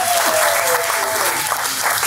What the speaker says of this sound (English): Can we get a round of applause from the entire congregation?